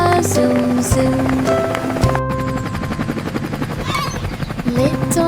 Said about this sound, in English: Little helicopter lifted high, spinning blades across the sky.